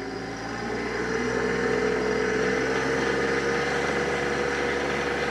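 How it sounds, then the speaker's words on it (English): A TYM T264 compact tractor's engine runs smoothly at wide-open throttle, a steady, even drone with a low hum, close and continuous with no talking. "But this engine is super smooth."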